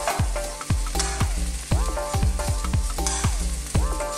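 Bean sprouts and spring onion stir-fried in a wok, a loud steady sizzle broken by repeated rhythmic clanks of the spatula against the metal, roughly two strikes a second, with no talking.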